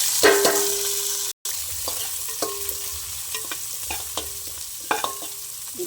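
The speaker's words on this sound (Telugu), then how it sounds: "ఫస్ట్ పచ్చిమిర్చి, ఉల్లిగడ్డ వేస్తాను" Green chilies and onions fry with whole spices and cumin for bagara rice, a steady close sizzle broken by repeated sharp scrapes and clinks of a stirring spoon against the pan.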